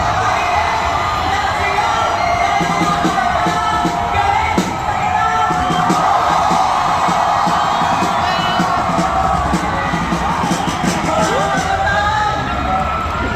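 Student protesters massing at Malacañang make a loud, continuous crowd roar of shouting, cheering and yelling voices that holds steady throughout, with individual calls rising out of the din.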